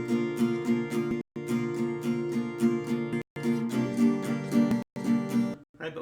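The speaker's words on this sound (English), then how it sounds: "if we didn't put any accents on anything, it would just sound like this" An acoustic guitar strums a steady, even down-up pattern with no accented beats, close and clear, in three phrases separated by brief stops.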